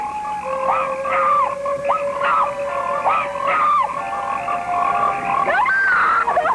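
Frogs croak repeatedly in loud, rising, pulsing calls that overlap in a steady chorus, close and prominent throughout, with no talking.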